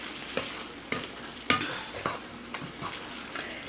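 Shrimp cooks in a pan with a soft background sizzle, broken by a series of sharp utensil clicks and stirring taps at roughly half-second intervals, close and fairly quiet.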